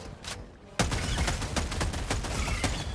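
Rapid automatic gunfire from a weapon in Helldivers 2, a loud burst of closely spaced shots starting abruptly after a quieter opening and continuing steadily to the end, with a short earlier blast at the start.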